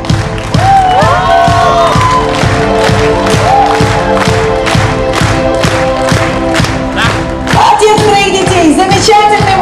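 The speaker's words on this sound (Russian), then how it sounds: "Ваши аплодисменты." Concert crowd at a pop group show applauding and cheering loudly, rhythmic clapping with shouts and whistles over music, with a voice over the noise.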